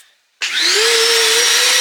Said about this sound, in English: Vacuum on, please.